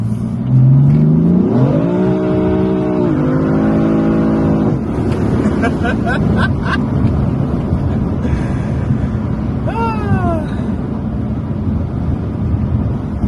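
A BMW M4 drives on the road and accelerates, its engine note rising through several gear pulls with shifts in between, heard loud from inside the car over steady road and wind noise.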